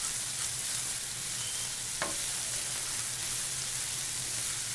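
Pasta sauce seasoned with black pepper frying in a pan, a steady hissing sizzle with one brief knock of a utensil partway through.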